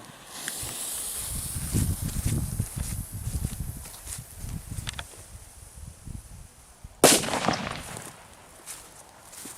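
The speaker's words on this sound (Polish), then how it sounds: "No i odpalamy." A JC05 firecracker goes off in dense grass, one sharp loud crack near the end after several seconds of rustling and faint ground noise.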